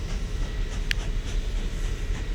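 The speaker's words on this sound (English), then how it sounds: "This train is waiting" A train in the Mashinky railway game rumbles steadily at a station, a dense continuous roar with one brief high click near the middle and no speech.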